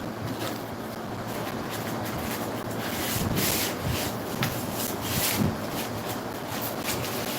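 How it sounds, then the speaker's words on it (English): 220 grit sandpaper scrubs dried goo off a plastic part of a Lasko box fan in quick back-and-forth rasping strokes, close and fairly soft, with no talking. "I'm going to try to see if I can sand this goo off"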